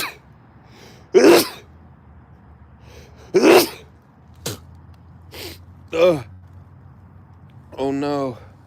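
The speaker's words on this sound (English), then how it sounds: "I'm about to sneeze." Several sharp sneezes burst out one after another, close and loud, separated by quiet pauses, with a final voiced gasp or groan at the end.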